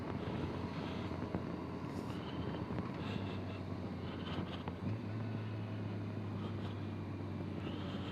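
Steady wind rush and low motorcycle engine drone while riding on a wet, twisty road, even and moderately loud, with a lower hum joining partway through.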